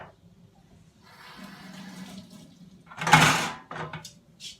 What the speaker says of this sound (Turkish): tepsilerimi yıkayacağım.